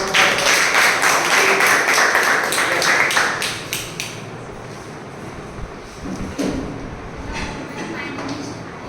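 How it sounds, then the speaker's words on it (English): A small meeting audience claps in a burst of distinct, fairly close hand claps that fade out after about four seconds, leaving quieter room noise with a few scattered taps. "please have a big round of applause."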